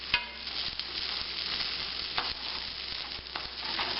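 Cheese quesadilla frying in a pan, a steady close sizzle throughout with a few brief scraping and stirring clicks.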